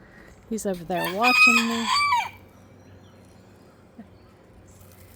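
A rooster crows once near a backyard vegetable garden, a loud, long rising-and-falling call lasting about two seconds, followed by quiet outdoor ambience with a faint knock.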